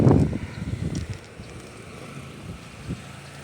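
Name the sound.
wind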